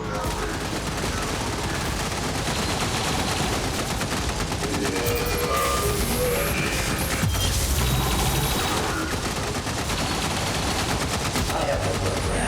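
A continuous barrage of automatic gunfire and shots in XCOM 2 runs loud and dense without a break, with voices speaking over the top of it.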